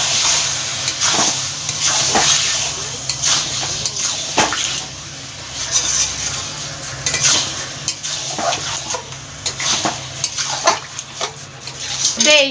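A large spoonful of sugar being stirred into a spiced chicken mixture in a pan, giving repeated scraping and stirring strokes over a steady sizzling hiss, close and fairly loud throughout.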